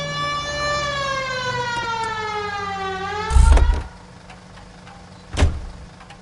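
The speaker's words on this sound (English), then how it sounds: "Turn on the siren and pull her over." A police car siren in the 1940s Los Angeles crime game L.A. Noire holds a loud, harmonic wail that slowly winds down and cuts off, followed by two heavy thumps.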